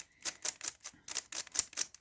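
A Moyu Huanmeng YS3M speedcube with a dry mechanism is turned quickly, giving a rapid series of light, crisp plastic clicks in an uneven rhythm, close and quiet.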